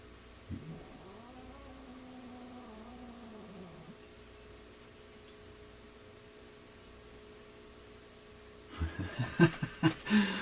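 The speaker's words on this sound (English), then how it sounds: "Black cat not getting along so much with our orange cats." Cats meowing indoors, a black cat at odds with orange cats: a drawn-out tonal meow early on, then a burst of louder, sharper yowls and hisses near the end, with quiet stretches between.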